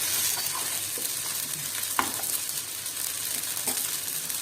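Rava dosa sizzles in oil on a pan, a continuous close frying hiss with light scraping and clinking taps from a utensil, no voices.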